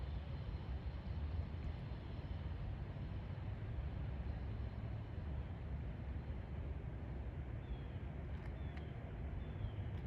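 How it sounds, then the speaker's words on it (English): A Metro North train with a cab car rolls south toward New York in the far distance beyond Hessian Lake, a faint, steady low rumble that carries unbroken throughout with no voices. "In the distance, I can hear a cab car from a Metro North train going south to New York."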